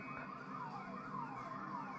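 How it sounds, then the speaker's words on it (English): Emergency sirens wail across Tonga after a magnitude 7.5 earthquake, several overlapping rising-and-falling tones sweeping continuously over a steady background rumble, with no talking. "sirens are going off."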